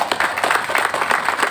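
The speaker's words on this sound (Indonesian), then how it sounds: "Boleh tepuk tangan untuk anak-anak kita." Applause from an audience for children at an Islamic boarding school pre-graduation ceremony, a steady, dense patter of many hands clapping that fills the short moment with no talk over it.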